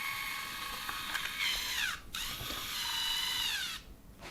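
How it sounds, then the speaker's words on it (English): Motorised arms of a wireless car phone charger cradle opening and contracting on first power-up, a close whirring gear drive in two sweeps separated by a brief pause, alone. "when you plug it in for the first time, it will open and contract just to sort of regulate the motors so they know what position they're in"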